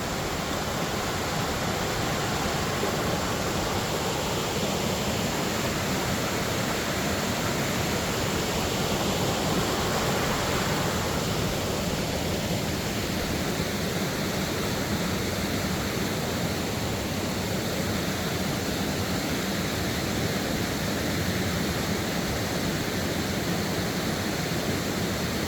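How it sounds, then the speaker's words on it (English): A continuous, even roar of falling water rushes without pause, broad and hissing like a nearby waterfall, in the Galloway Forest wilderness. "that's just wilderness, and that's a waterfall"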